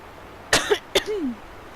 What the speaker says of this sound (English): why am I always coughing in the mornings?